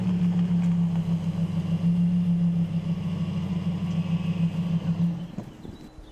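A Lamborghini Huracan EVO in fluo capsule livery approaches with a steady, loud low engine drone that holds for about five seconds, then cuts off abruptly into quieter rustling.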